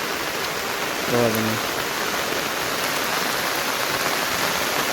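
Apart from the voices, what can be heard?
heavy rain falling on fields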